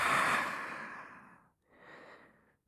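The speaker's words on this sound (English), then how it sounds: "So open your mouth and exhale out." An open-mouthed breath pushed out slowly in a long, soft, breathy exhale, followed after a brief pause by a second, quieter outbreath, close and alone.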